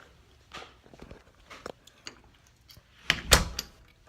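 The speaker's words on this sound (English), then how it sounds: "Lock the door." An apartment door is shut and locked, with a few soft thuds and shuffling footsteps before a sharp, close latch and lock clack near the end, no talking.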